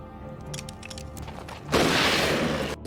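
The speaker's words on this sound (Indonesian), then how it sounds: "Suara tembakan itu terdengar oleh Kevin yang langsung mendatangi mereka." A single loud gunshot bursts in after a quiet stretch and rings out with a harsh, sustained crash before cutting off abruptly.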